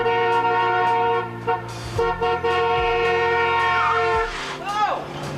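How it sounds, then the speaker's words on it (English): A car horn honks in long sustained blasts with short breaks amid a busy street crowd, loud and close, with whistle-like tones toward the end. "This guy's going to be honking like crazy."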